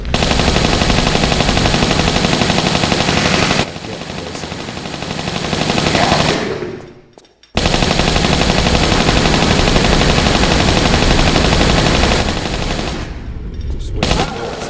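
Enemy gunfire in the Tomb Raider III video game, South Pacific level: loud, dense, continuous machine-gun-like bursts that drop out briefly in the middle and then resume.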